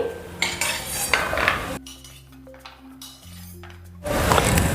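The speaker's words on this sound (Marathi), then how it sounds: "आता 2 चमचे तूप टाकते आणि काजू बदाम पिस्ते रोस्ट करून घेते" Cashews, almonds and pistachios roast in ghee in a pan, rattling and scraping loudly as a utensil stirs them. There is a quieter pause in the middle where soft tones linger, and then the clatter resumes.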